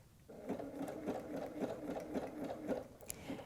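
Sewing machine zigzag stitching along the top of a nine-patch quilted apron, a quiet, even, rapid rhythmic whir of needle strokes close by, starting after a short pause.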